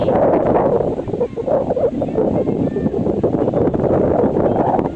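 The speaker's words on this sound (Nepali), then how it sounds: "यस्तो राम्रो चिसो चिसो हावा" Steady wind gusting past the microphone beside the Babai river in Bardiya, a continuous loud rushing roar with rustling that swells and dips throughout.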